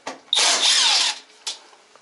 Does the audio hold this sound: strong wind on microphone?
no